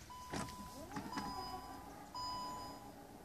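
A Jeep Cherokee Trailhawk's remote power tailgate begins to open, a couple of quick chirps followed by a faint, steady electric whine with a high beep tone layered on top.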